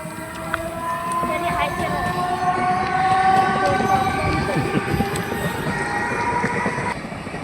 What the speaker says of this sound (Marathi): स्टेशनला जाणारी ट्रेन आहे